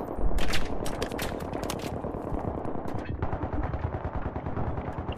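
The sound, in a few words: gunfire from a gun with a flash suppressor in the video game Battlefield 3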